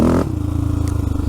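An ATV engine catches and runs after a bump start on leaf-covered ground, settling into a steady low, pulsing idle after a brief louder burst at the start.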